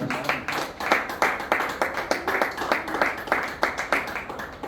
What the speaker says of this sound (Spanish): Puede dar un fuerte aplauso a su gloria, hermanos.